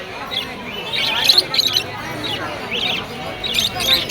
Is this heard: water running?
no